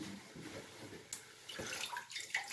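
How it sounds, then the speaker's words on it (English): Water from a tap runs steadily while wetting hair ahead of a head shave, a soft close splashing that shifts and breaks up as the hair and hands move under the stream. "So quick wet up of the hair"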